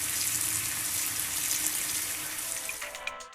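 Hot water from boiled food being drained and replaced with cold water in a kitchen sink, heard as a steady, loud rush of running tap water that eases off near the end.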